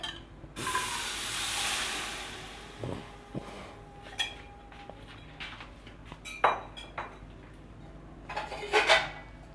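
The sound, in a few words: cooked black chickpeas added to a wok for pulao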